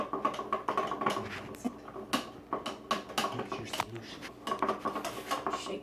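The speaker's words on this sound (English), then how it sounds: "Then I mix for 20 seconds in order to activate the yeast." Dry yeast being stirred into warm water with a spoon, giving quick, irregular clinks and taps against the container, close and fairly soft, with faint murmuring in the background.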